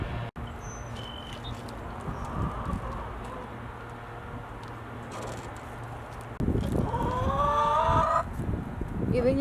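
Chickens cluck softly around a backyard coop amid light wind and outdoor ambience, with a louder burst of squawking and a crowing-like call rising near the end.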